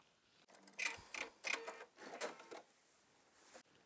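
A sewing machine stitches a waistband with a zipper in short bursts: several quick runs of rapid mechanical clatter separated by brief pauses, close and moderately quiet.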